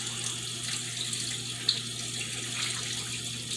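A tap runs steadily into a sink while water is used to clean up putty from a 3D-printed alien head model. The stream is close and constant, with a faint hum underneath.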